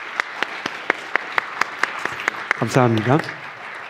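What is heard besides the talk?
congregation applause of encouragement in church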